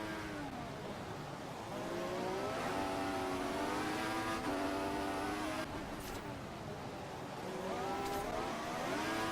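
Race cars in a motor racing video game, including a McLaren and a Red Bull, whine past with rising and falling engine notes. Several overlapping engines sweep by steadily and fairly loud, with Doppler-like pitch bends.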